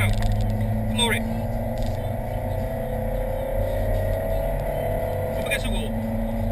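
A car accelerates hard up the banking at Rockingham race track, its steady, loud engine drone holding a constant pitch throughout with brief higher whines, heard from inside the cabin.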